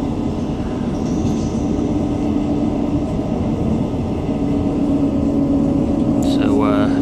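A Class 158 diesel multiple unit slowing as it approaches Dawlish Warren, heard from inside as a steady loud rumble of wheels and engine with a sustained hum, a squeal or brake tone near the end, and a voice talking over it.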